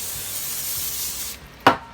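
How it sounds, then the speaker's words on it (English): A can of cooking spray hisses steadily onto plastic for about a second and a half, ending with a short sharp tap. "I like to use a little cooking spray on the plastic. I'm going to spray this"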